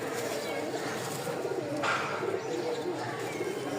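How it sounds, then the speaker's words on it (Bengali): Rajshahi Giribaj pigeons coo softly amid a dense, noisy loft ambience, with a person talking over the birds throughout. "এটা চোখ বলে রাজশাহীর গিরিবাজ"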